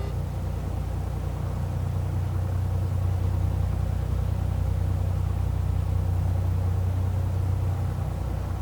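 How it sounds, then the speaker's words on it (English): Steady engine drone and low rumble of a light aircraft taxiing to the runway for takeoff at Dawson Creek in the Prepar3D flight simulator, continuous and even throughout with no voices. "taxiing to runway for takeoff, runway 24."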